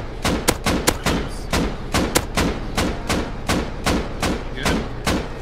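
Rapid AK rifle fire in the Rust video game, a fast run of punchy, evenly spaced shots, loud and close, with a faint voice underneath.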